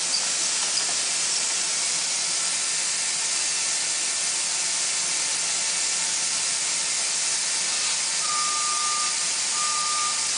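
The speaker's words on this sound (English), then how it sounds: "you can allow this to stop steaming off and then continue to build up your thickness" Fresh coating steaming off a hot industrial pipe, a loud continuous hiss that holds steady for the whole stretch, with a few faint short beeps near the end.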